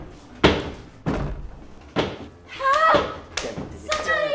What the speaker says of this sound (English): I'm gonna break the frigging door down.